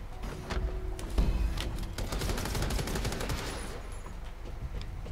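Rapid SMG fire in the top-down brawler shooter Redeemer, a dense rattling burst of shots with thuds and impacts running continuously for several seconds, up close and loud.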